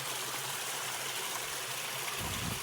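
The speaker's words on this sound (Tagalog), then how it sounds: "Ito yung suba guys na hindi na ubusan ng tubig" Water from a river spring rushes steadily past, a continuous broadband hiss and gush that stays even and unbroken throughout, with no voices.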